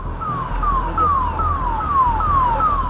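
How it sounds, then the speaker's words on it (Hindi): An ambulance siren wails in a repeating falling pattern on a Delhi street, each cycle sweeping down in pitch about every third of a second, loud over low traffic rumble. "एम्बुलेंस के सायरन की बढ़ती आवाज"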